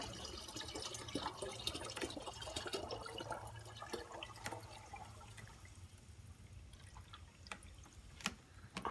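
Mixed calcium dosing solution poured through an adapter into a VOSS dosing container: faint, uneven trickling and splashing of liquid with scattered sharp drips and clicks, quiet and close.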